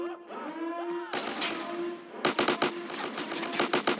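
Gunfire in GTA San Andreas on Android: after a quiet, tonal opening comes a dense burst of game noise, then a rapid run of sharp, loud shots in quick succession.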